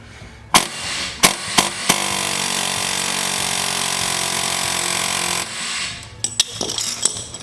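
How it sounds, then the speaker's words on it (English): Sharp pneumatic air hammer bursts knocking a hub off an engine crankshaft, then a long continuous rattling hammer run, followed by more short percussive blasts; loud and close. "Or try to air hammer it off if you got an air hammer."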